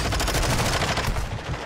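Rapid automatic gunfire bursts in Warzone 2.0, a dense, loud stream of shots firing in quick rhythmic succession close by.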